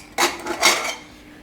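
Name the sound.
opening the rice cooker, pot and lid clatter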